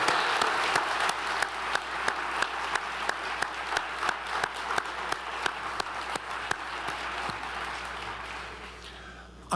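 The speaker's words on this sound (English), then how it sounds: "we can give a round of applause" An audience at an awards lecture applauds in a sustained round of clapping, with a few sharp, distinct claps standing out above the crowd before it gradually tapers off.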